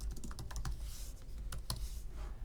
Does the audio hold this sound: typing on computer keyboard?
yes